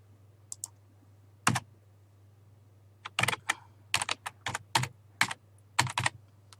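Typing on a computer keyboard while working in a spreadsheet, with bursts of crisp key clicks in uneven clusters over a steady low electrical hum, close and moderately quiet, with no talking.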